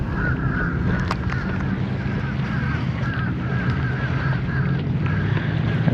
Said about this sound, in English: There's a lot of birds here.